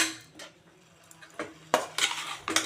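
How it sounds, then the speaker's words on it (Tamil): A metal spoon clinks and scrapes against a pan while prawns and onions are stirred and sautéed, with intermittent sharp knocks over a soft low sizzle, close and fairly quiet. "நல்லா வதக்கி விட்டுக்கணும்."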